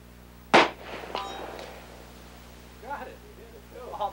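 A single rifle shot fired at a target outdoors, one sharp loud crack near the start followed by a ringing decay and faint echoes, then quieter voices talking.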